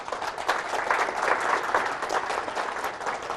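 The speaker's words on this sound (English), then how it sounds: "so I think you can give him a round of applause for that." An audience applauds a speaker at a lecture, steady dense clapping from many hands, continuous and even throughout with no voices on top.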